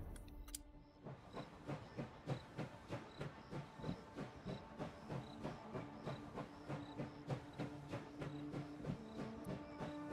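Train running in the Last Train Home video game, a steady rhythmic clatter of wheels on rail joints with a faint hiss, even and moderately loud throughout, no voices.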